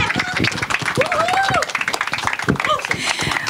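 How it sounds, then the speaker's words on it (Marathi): Loud applause and clapping from an audience at a Marathi film trailer launch event, dense and sustained across the whole stretch with a voice audible over it. "जोरदार टाळ्या."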